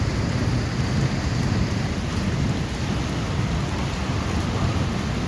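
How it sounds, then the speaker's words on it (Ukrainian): Heavy rain pours down steadily, a dense, constant roar close by with no pauses and no voices. "Дощ іде."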